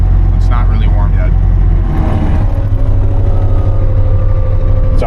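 An ASV RT50 compact track loader's engine idles not yet fully warm, a steady low rumble with a faint mechanical whine running throughout, while a person talks nearby over it.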